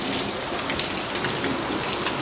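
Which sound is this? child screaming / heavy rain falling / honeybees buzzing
heavy rain falling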